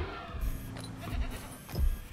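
A goat in Jurassic World Evolution bleats faintly a few times in short, wavering cries spaced across a quiet background, with no talking.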